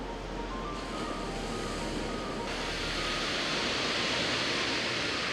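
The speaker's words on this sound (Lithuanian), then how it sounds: "Ar girdisi vėjas, kaip pučia per šitą plaukuotą, kaip sakoma, dead cat." Steady wind buffets a microphone fitted with a furry windscreen on a coastal walk from Lulworth to Ringstead, a continuous broadband rush that stays loud throughout with no talking.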